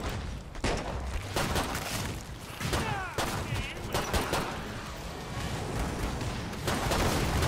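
Gunfire in Killing Floor 2, with bursts of rapid shots and heavier booms in chaotic combat, loud and dense throughout with brief gaps between volleys.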